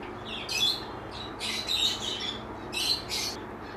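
Pigeons kept in pairs, including a male, give a few short, harsh calls in separate bursts over a quiet background, nearby and moderately loud.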